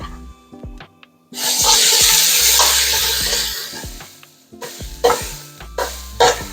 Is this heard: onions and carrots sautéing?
yes